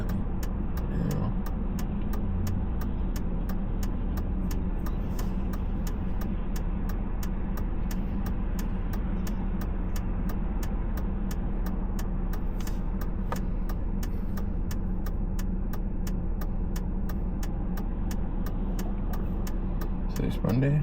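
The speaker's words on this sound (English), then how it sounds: "Traffic's pretty heavy." Heavy road traffic in Minot, North Dakota flows past steadily, a constant dense rumble of cars and trucks without clear breaks, with a regular ticking over the top.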